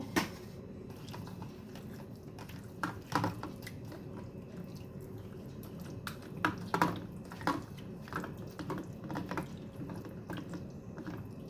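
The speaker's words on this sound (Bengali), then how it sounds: "সমস্ত উপকরণ আমি ভালোভাবে মেখে নেব" Chicken is hand-mixed with spices, garam masala and oil, giving close wet squishing and soft slapping sounds in irregular bursts, with no talking.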